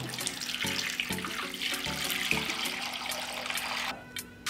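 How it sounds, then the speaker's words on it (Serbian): Water pours steadily into a metal pot of jars up to lid height, splashing and rushing for a few seconds before cutting off, followed by a faint clink. "Zatim ću naliti vode do visine poklopca."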